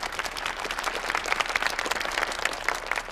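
Audience applause at a company's annual gala evening, a dense, steady burst of many hands clapping, fairly close and loud, with no voices over it.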